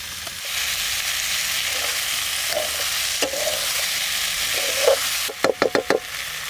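Potatoes and taro stolons sizzle steadily in spiced masala in a village kitchen, with a few soft stirring scrapes, then a quick run of sharp utensil knocks near the end.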